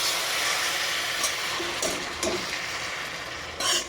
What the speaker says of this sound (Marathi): आता हे सगळं काही मिक्स करायचं